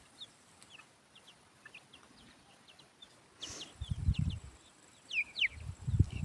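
Young chickens around an outdoor pen peep repeatedly in short, high calls, scattered and fairly faint, while heavier low rustling or handling noise comes in during the second half.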